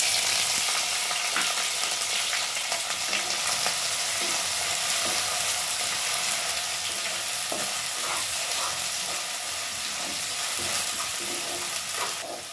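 Chopped onions fry in hot oil, making a constant bright sizzle with occasional soft stirring clicks, close and steady for the whole stretch, with no voices.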